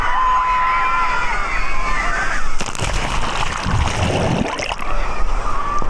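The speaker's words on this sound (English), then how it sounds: "Those waves are not playing." Big artificial waves surging through the wave pool at Disney's Typhoon Lagoon water park, a loud rushing, sloshing wash that swells midway amid crowd noise and voices.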